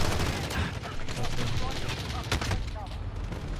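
Repeated gunfire from a sniper in an online shooter game, dense overlapping shots and bursts packed tightly together at steady loudness across the whole stretch, with a voice talking underneath.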